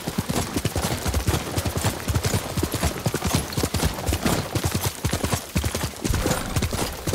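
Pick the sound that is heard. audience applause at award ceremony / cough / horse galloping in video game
horse galloping in video game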